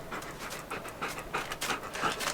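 A dog pants rapidly and steadily at close range, quick breathy bursts repeating throughout with no talk over them.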